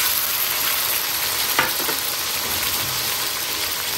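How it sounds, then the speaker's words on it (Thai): Eggplant and tofu stir-fried in a pan make a continuous close hiss of frying, with a few sharp spatula scrapes and knocks near the middle and no speech. "คือต้องผัดมะเขือก่อนเพราะว่ามะเขือมันจะได้รสชาติ"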